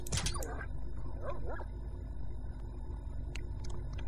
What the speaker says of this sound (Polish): No tylko to są psy